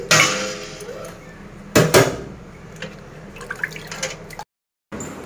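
Water sloshes and splashes in a bucket as it is stirred and mixed, with a few sharper knocks and drips between softer swirling, close by and moderately loud.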